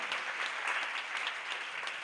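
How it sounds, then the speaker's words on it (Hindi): Applause from a congregation at a Jain religious discourse, steady dense clapping heard at a moderate distance and fairly faint, with no one talking over it. "एक बार उनके लिए जोरदार ताली बजा के बुलाते।"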